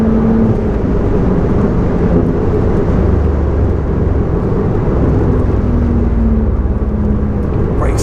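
A Clubsport S and a Mark II race side by side on the Nürburgring GP circuit, a loud, continuous engine roar with rising and falling pitch, close and dense, no speech over it.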